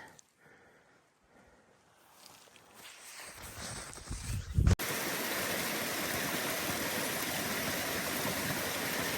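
Stream water running beside the Appalachian Trail near Winding Stair Gap, first faint and distant amid rustling footsteps, then a sudden steady loud rushing flow close by for the rest.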